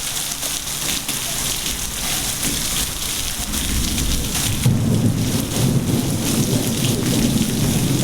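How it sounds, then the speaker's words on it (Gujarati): Heavy rain pours steadily in a Gujarat village, with a deep rumble of thunder swelling in the low end from the midpoint onward. The broadband downpour stays loud and close, and no voices are heard. "અમારા ગામમાં જ બહુ વરસાદ આવ્યો"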